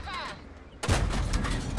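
Tank cannon fire from an E 25 in World of Tanks on the Berlin map: a sudden loud blast cuts in after a quieter stretch of engine and ambient noise and is followed by a sustained rumbling roar.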